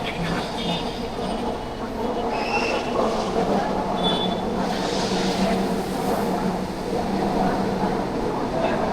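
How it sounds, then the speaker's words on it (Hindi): Busy platform ambience at Chennai Central railway station, with a train rolling through amid steady rumbling, metallic wheel squeals and scattered clatter, plus distant indistinct crowd chatter mixed in. "Chennai central railway station."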